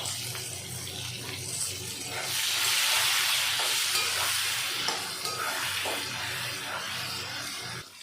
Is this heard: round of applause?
no